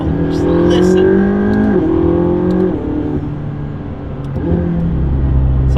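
A McLaren 675LT sports car engine revs hard and close, loud and sustained, its pitch climbing and dropping through several gear changes, with a voice briefly audible over it.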